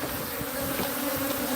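A huge swarm of more than 100,000 honeybees hums steadily in a windmill wall, a dense, continuous drone with no voices over it.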